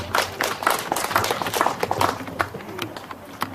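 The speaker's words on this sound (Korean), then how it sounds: "힘찬 박수를 부탁드립니다" Audience at a Korean poetry-reading event claps in a burst of uneven, dense hand claps, fairly close and lively, with some speech-like murmur mixed in.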